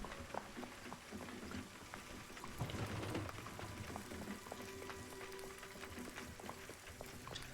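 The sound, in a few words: rain falling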